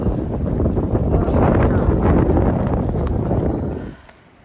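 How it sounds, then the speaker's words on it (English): Strong, steady wind roars and buffets the microphone for about four seconds on the Appalachian Trail, then abruptly drops to a quieter hush. "It's so windy"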